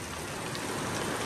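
A heavy wind-driven rainstorm with hail gives a dense, continuous roar of rain pounding surfaces, loud and close, with no talking.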